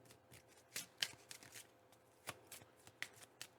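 Tarot cards shuffled by hand during a card reading, giving quiet, irregular riffling snaps and soft slaps. Close but faint, with no talk over them.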